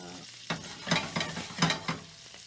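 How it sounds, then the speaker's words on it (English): Original Italian sausage browns in a pan with a steady close sizzle, broken by a series of rhythmic stirring scrapes about every half second. "we're going to brown that up"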